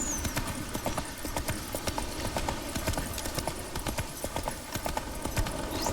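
Steady clip-clop of horse hooves trotting along in The Witcher 3, passing through Velen, continuous and fairly close, with the game soundtrack murmuring underneath.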